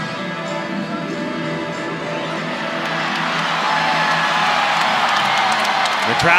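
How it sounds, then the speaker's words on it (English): Volleyball arena crowd at a Wisconsin vs. Penn State match reacting to replays, a broad wash of murmuring and cheering that swells gradually, with voices mixed in. "The crowd here reacts to the replays they see."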